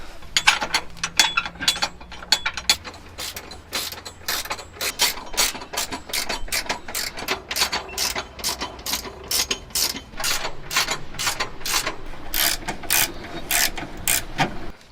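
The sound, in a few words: wrench tightening bolts on Honda Fit to torque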